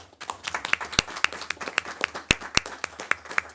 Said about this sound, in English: Round of applause for Marthville, please.